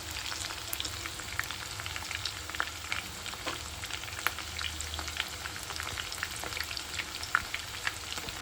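Tiny fish kebab mixture frying in oil over a high flame, a dense, even crackle of sizzling pops left undisturbed throughout.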